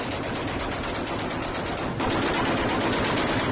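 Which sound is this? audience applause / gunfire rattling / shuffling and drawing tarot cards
gunfire rattling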